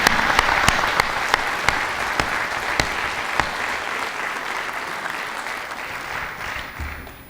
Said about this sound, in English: join me in a round of applause for those that have came before